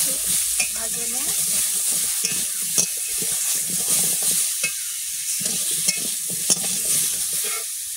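Spices with turmeric and salt being stirred and fried in a pan, with a steady soft sizzle under scraping stir strokes and occasional clinks, no talk.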